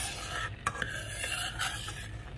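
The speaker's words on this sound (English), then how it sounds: "now it's time to ladle this into jars" Cooked-down strawberry jam ladled into jars, with wet stirring, scraping and a couple of sharp utensil clinks against the pot over a continuous close hiss, no speech.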